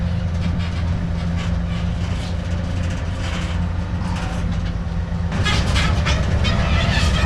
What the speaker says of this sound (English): Tram going down to the vintage area.